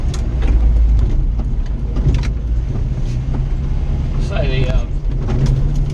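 A 620 four-wheel drive runs with a steady, loud low engine and road rumble heard from inside the cab, with a person talking briefly over it.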